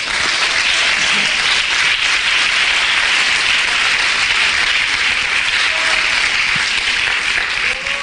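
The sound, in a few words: church congregation applauding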